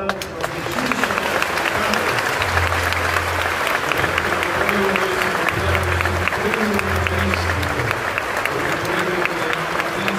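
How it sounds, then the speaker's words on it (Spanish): A large crowd applauds at an outdoor Catholic Mass in a stadium, dense sustained clapping filling the whole stretch, with faint voices and cheering mixed underneath. "nosotros como pueblo de Dios le damos un fuerte aplauso a Jesús"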